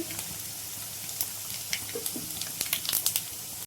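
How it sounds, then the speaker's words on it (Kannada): Mustard seeds and cumin hit hot oil for masala chitranna and crackle in a steady close sizzle, with sharp pops growing more frequent toward the end. "ಹಾಗೆ ಸ್ವಲ್ಪ ಸಾಸಿವೆ ಸ್ವಲ್ಪ ಜೀರಿಗೆ"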